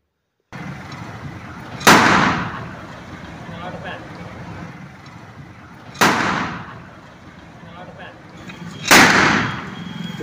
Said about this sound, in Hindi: अच्छा धमाका करती है